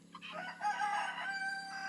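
A rooster crows nearby, a single drawn-out cock-a-doodle-doo call standing alone in a farmyard where gamefowl are raised.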